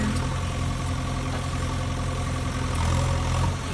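A toy JCB excavator stuck in place runs its motor steadily, a close, constant buzzing drone with no talking.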